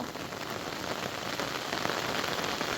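Heavy rain pours down steadily outdoors during a frog hunt, making a dense, close, unbroken hiss with no other sounds standing out.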